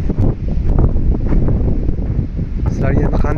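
Wind gusts across an outdoor microphone on a cold, sunny day, a loud continuous rumbling buffet with rustling, while a person speaks underneath.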